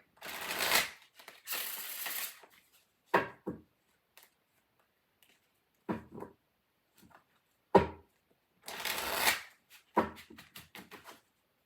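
Several bursts of tarot cards being shuffled, crisp riffling rustles separated by short pauses and a few soft taps, close by with no talking.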